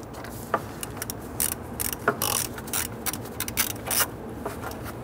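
Ratchet wrench loosening and removing a radiator cooling fan bolt on a 1994-2004 Ford Mustang, with rapid clicking ratchet bursts and short pauses between them, close and clear with no talking.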